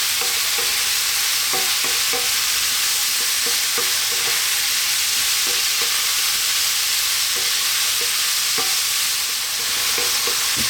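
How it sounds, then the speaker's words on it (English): Roughly chopped mushrooms being stir-fried for rib eye garlic mushroom five-spice fried rice, a loud constant sizzle with frequent spatula clicks and scrapes throughout, no voices. "We're now going to add our mushrooms"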